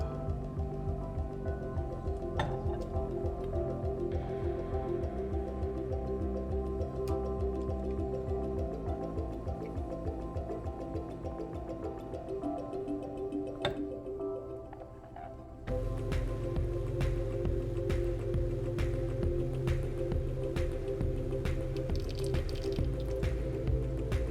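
Melted homemade lotion bar mixture pours into a mold tray in a steady, quiet stream of drips and liquid trickling, with a repeating pulse throughout and a brief lull before the flow resumes a little louder.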